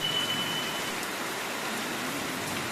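Heavy rain pours down during a thunderstorm, a dense continuous hiss of drops striking surfaces, steady and fairly loud with no pauses.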